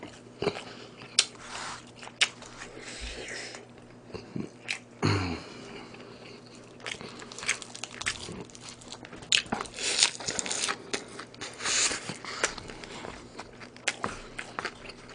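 Close, wet chewing and biting sounds come from someone eating a home-cooked Korean meal of seaweed soup, braised Korean beef short ribs, Spam, fried egg and laver, in irregular bursts with clinks and pauses.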